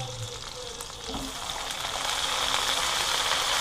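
Onions and potatoes frying in a pan, a steady close sizzle that grows louder and denser as it goes on, with a faint clink near the start.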